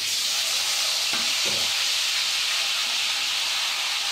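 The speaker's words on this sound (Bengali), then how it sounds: "এখন তেলের উপর মাংস দিয়ে দিলাম।" Marinated mutton drops into hot oil and spices in a kadai, producing a loud, steady, close sizzling hiss that fills the whole stretch with no voices.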